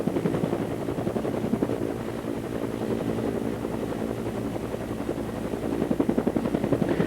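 A helicopter flies low over Hurricane Hugo damage near Dewees Inlet and Dewees Island in 1989. Its loud, steady rotor chop and turbine whine run unbroken and close throughout, with no voices.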